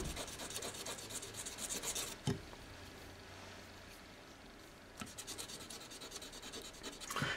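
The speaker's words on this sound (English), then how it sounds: "I'm just going to rub that across some wet dry paper just to polish up the bottom" A filed metal shell being rubbed across wet-and-dry sandpaper to polish its base, giving a steady, close rasping scrape in long back-and-forth strokes with a few sharper knocks between passes.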